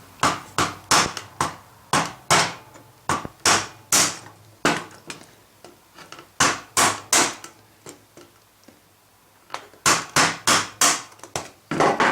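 A Marx plastic toy figure body is struck repeatedly with a hammer in a workshop, the sharp, loud whacks coming in quick rhythmic bursts with short pauses between groups.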